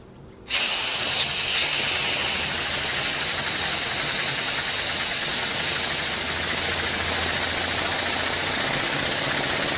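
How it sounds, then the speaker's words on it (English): A 3D printed engine runs on compressed air from a compressor, a loud steady hissing rush with a fast rapid chatter that starts suddenly and holds for nearly ten seconds, with no talk. "this will show you how the engine operates now that we've looked at all the pieces"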